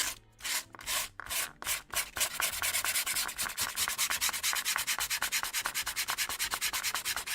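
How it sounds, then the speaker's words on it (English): Wood filler on a handmade wooden book nook is sanded close to the mic. A few slow, separate strokes give way to fast, steady back-and-forth rubbing that continues to the end. "So now all that's left is to, I need to sand it down."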